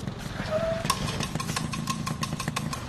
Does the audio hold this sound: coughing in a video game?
no